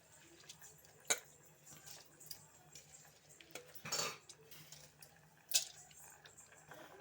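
Rice goes into a pot of boiling water for Indian tomato rice and is stirred, giving scattered clinks and taps against the pot over a soft bubbling hiss, with one longer scraping rustle in the middle.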